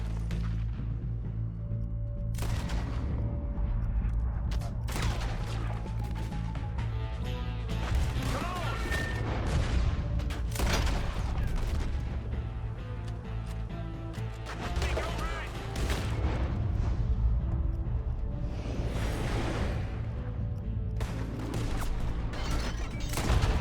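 Dense video-game gunfire rattles through a shootout, bursts of shots, crashes and impacts piling up continuously, with voices shouting over the chaos.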